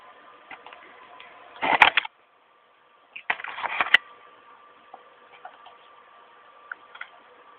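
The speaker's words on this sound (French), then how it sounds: "C'est le bruit de la roulette de ma souris." A computer mouse scroll wheel gives two short bursts of quick faint clicking, followed by sparse isolated ticks over a quiet background hum, and no voices are present.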